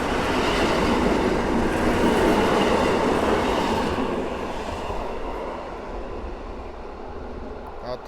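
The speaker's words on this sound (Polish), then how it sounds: "A obok za chwilkę wiedzie pociąg do Pilawy." A passenger train to Pilawa passes through Warszawa Włochy station, loud close rumbling and rattling wheel noise that gradually eases off as it goes by, with no talking.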